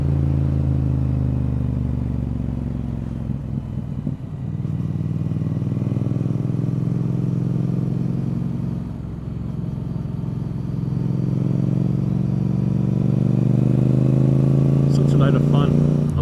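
A motorcycle rides along a road and drops a gear for a corner, its engine humming steadily up close with pitch dips and rises around the shifts, beneath a rider talking.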